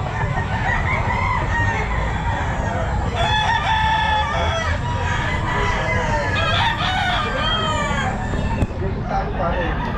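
A young gamecock (stag) crows loudly and nearby at the Bocaue pet market, with repeated drawn-out calls and clucks over the busy background hubbub of the market.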